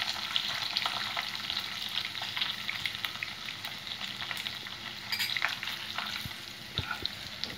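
Masala with a pinch of turmeric frying in oil for surmai kingfish curry, a busy crackling sizzle with frequent pops and stirring scrapes throughout, fairly close and no talking.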